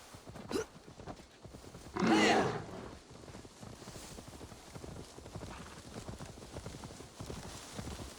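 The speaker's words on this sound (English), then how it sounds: "Now to deliver Magni his horse" Rhythmic clip-clop of galloping horse hooves in Assassin's Creed Valhalla runs throughout at a steady pace, with a loud horse snort or whinny briefly rising over it.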